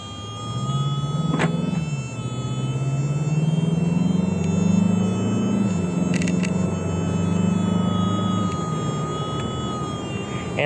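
A gas car drives along, its steady low engine and road rumble holding throughout with a faint whine above and a brief sharp click near the start; no one talks.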